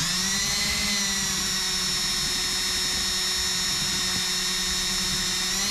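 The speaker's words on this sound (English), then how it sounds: "we need to drill out this pin, and then that'll allow us to slide the ignition out" A power drill bores out the ignition lock cylinder pin on a 1985 Ford Mustang GT T-Top Fox body, a steady high whine running unbroken for several seconds with no voices.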